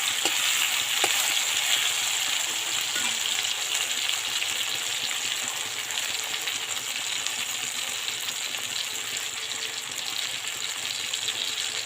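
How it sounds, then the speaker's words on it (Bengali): Garlic frying in a pan with cauliflower, potato and tomato, giving a steady continuous sizzle that holds at an even level close by, with no voices. "রসুনটা দিয়ে দিয়েছি, ততক্ষণ রসুনটা এখানটা ভাজা হোক।"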